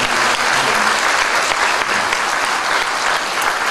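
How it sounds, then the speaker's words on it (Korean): Dense applause from a church congregation, thanking parents and visiting guests after a girls' high school choir performance; loud, steady clapping from a crowd, unbroken and alone for the whole stretch. "외부에서 와주신 분들께 우리 감사의 박수"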